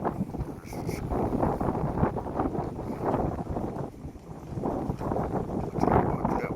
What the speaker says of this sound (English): I'll tell you what, that wind is really picking up.